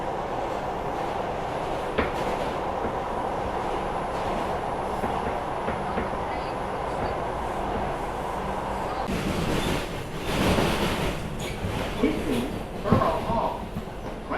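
An R142 subway train on the 4 line runs from Bowling Green, Manhattan, toward Borough Hall, Brooklyn, a steady loud rumble with wheel clicks and rising rattles and squeals, heard from inside the car with announcements and voices over it.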